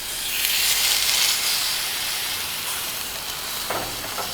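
Steaks searing in a hot cast iron pan, a loud steady sizzle and hiss close up that runs for the whole stretch with small crackles near the end.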